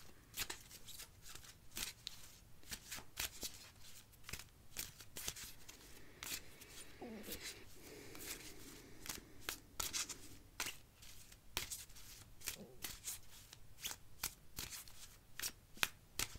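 A deck of astrology cards is shuffled and handled close by, with rapid papery riffles, flicks and soft rubbing in uneven bursts at low volume and no speech.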